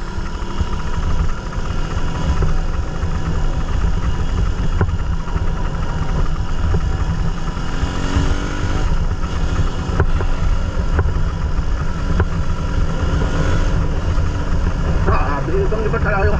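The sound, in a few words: Suzuki Raider 150 motorcycle engine running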